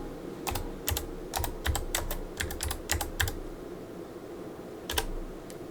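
One hand types on a computer keyboard turned sideways, producing irregular bursts of crisp key clicks with short pauses between, close and clear over a low steady background hum.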